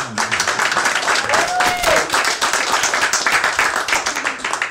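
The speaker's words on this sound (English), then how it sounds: "One round of applause for the lovely Jihan." Audience applause for a performer at an open soul session, with dense clapping and crowd noise throughout under a brief tonal sound, sustained and fairly loud.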